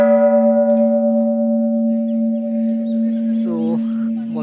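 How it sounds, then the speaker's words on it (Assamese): A large temple bell rung at Char Dham, Namchi, Sikkim, gives one deep, sustained metallic tone that hums steadily throughout, with faint chirps and rustling late on. "চ' আমি ঘণ্টাটো এবাৰ বজাই চাম।"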